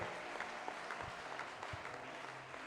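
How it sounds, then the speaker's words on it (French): Church congregation applauds in a soft, continuous patter of many hands, fairly distant and faint, with a low murmur of voices underneath. "Est-ce que tu peux acclamer d'abord?"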